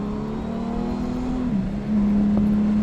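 A 2024 Honda Goldwing Tour motorcycle accelerates hard in sport mode, a loud steady engine drone that dips briefly as it shifts, then resumes stronger.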